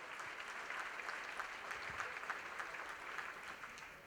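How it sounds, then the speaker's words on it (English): A room full of people at an annual award function applauds steadily, a soft, even patter of clapping heard from some distance, without voices. "Can we have another round of applause on that note?"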